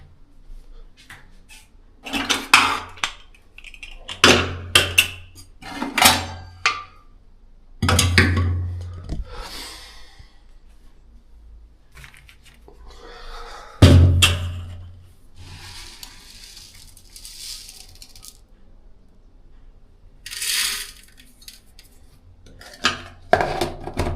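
Metal pots and utensils clank and clatter in separate bursts as a pot of lentils is set on the stove to boil, with a few louder knocks and scrapes among quieter kitchen handling sounds.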